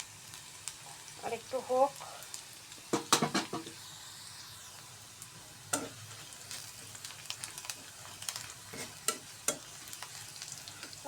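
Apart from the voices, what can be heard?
garlic frying in a pan for lentil tempering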